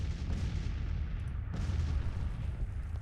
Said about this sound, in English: Our guns are still pounding away.